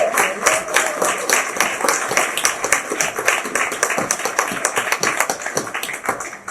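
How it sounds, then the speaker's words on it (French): Steady audience applause during a mayor's victory celebration, dense overlapping hand claps at close range that hold at an even level for the whole stretch, with no talk over them. "on aimerait ça applaudir"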